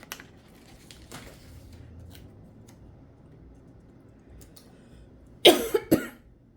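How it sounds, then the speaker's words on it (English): Near the end, a woman with a slight cough lets out two or three abrupt coughs, loud and close, after several seconds of quiet room noise with faint taps from scrapbooking work. "I have a little bit of a cough going on today"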